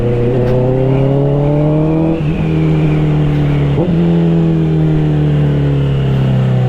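A Honda CBR650R motorcycle with an Austin Racing GP1R exhaust rides at night, its loud, close engine droning and rising through revs with quick gear-shift dips, and no voices.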